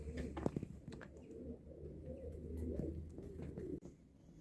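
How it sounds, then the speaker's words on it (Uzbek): Pigeons coo softly in a loft, repeated low throaty calls near the listener over faint background noise and a few small knocks, with no talking. "kaptarlarni bollari, jo'nalar moda chiqibdi."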